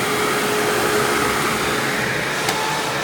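A Hoover WindTunnel bagless self-propelled upright vacuum, model U6616-900, runs standing in its upright position, a loud, steady motor whine and airflow roar close to the microphone, unchanging throughout, with no speech.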